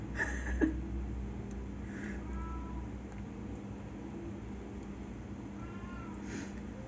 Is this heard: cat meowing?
yes